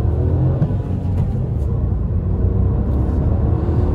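A Honda Civic sedan with a 1.0-litre VTEC turbocharged engine accelerates, a steady loud low engine rumble heard from inside the car without talk.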